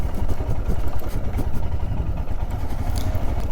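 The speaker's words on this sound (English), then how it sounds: "that putt-putt sound that the engine makes really is quite sweet" Royal Enfield Scram 411 motorcycle engine putt-putting at low speed on a UK trail, a steady, close, low thumping idle-like beat with some wind and rumble throughout.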